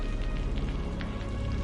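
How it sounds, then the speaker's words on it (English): Rain tapping on metal roofing sheets during a flood, a constant dense patter with scattered brighter drop hits, steady and close, no voices. "The rain taps the metal roofing sheets."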